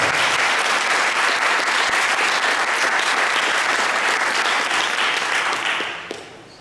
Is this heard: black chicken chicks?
no